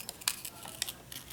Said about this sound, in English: I will go ahead and trim this off